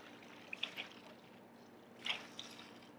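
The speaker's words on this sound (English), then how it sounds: "the beauty of a non-stick skillet, it simply rinses out and cleans very quickly" A non-stick skillet is rinsed out with water, making faint, brief splashing and trickling sounds in two short bursts over a quiet background.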